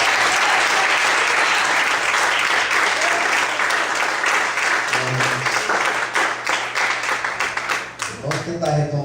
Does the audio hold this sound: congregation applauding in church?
yes